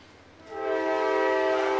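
A passing train sounds its horn in a loud, sustained blast that rises in quickly and holds steady, with the rumble of the train underneath and no voices.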